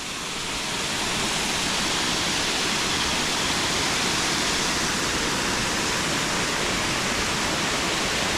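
Water rushes steadily past an old mill site on an autumn walk at Newstead Abbey, a loud continuous broadband roar like a weir or small waterfall, close and unbroken throughout.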